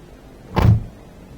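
A Mercedes-Benz Sprinter van's front door closing in the OMSI 2 driving simulator gives one solid, close thump with a short heavy low end, alone against quiet background.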